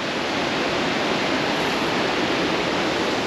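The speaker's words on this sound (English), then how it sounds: "Across the river you can see more waterfalls." Steady broadband roar of waterfalls across the river at the 4000 Islands in Laos, a continuous rushing wash of water with no breaks, loud and unchanging throughout.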